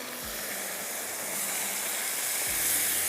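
Steady sizzling hiss of liver frying in a pan over a high flame, continuous and fairly close, with a couple of low clunks from the pan.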